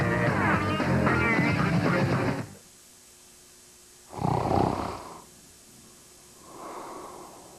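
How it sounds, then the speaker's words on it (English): Snoring in a TV health news promo: a deep rattling snore up close, followed after a pause by a second loud snore and a fainter third breath. "Doran Gensler looks at an amazing new way to stop snoring for good."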